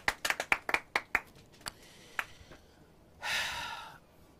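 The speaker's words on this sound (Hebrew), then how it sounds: "ניחות כפיים סוערות." Stormy applause erupts from an audience at a talk of stories about great rabbis, a burst of sharp close claps in the opening seconds that thins to scattered hits, followed by a brief hissing swell.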